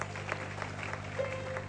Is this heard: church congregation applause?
yes